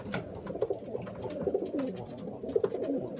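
Several pigeons coo in a loft, their soft, throaty calls overlapping continuously and close by, with light rustling and no talk.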